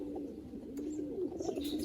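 A male pigeon coos steadily in a loft, its low, throaty murmur running continuously and close, with faint bird sounds in the background.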